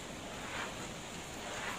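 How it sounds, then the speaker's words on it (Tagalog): Steady roaring typhoon wind with broad rushing noise, constant and loud throughout, with slight gusting swells and no voices. "Lakas pa ng hangin."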